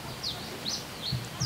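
Birds chirping outdoors, a few short high tweets repeating at roughly half-second intervals over steady broadband background noise, moderately near.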